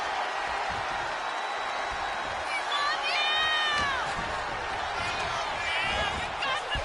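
A large wrestling arena crowd in WWE 2K25 roars and cheers steadily throughout, with whistles and whoops rising above the din, loud and continuous.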